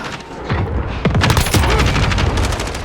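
Gunfire in Call of Duty: Modern Warfare hardcore multiplayer, a loud close burst of rapid shots and sharp cracks packed into a few seconds with constant game noise, no talk.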